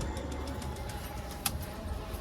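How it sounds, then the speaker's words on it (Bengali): Black pigeons at a home loft coo softly against a steady background hum, with one brief sharper sound partway through. "এটা আমাদের বাড়ির কালো যা কবুতর আছে"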